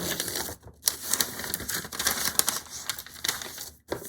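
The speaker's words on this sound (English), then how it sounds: "Sorry for the crinkle noise." Close, crackly crinkling and rustling of material while a lining is sewn, a continuous papery scratch with brief pauses and no talking.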